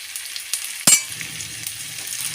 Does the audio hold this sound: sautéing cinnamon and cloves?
yes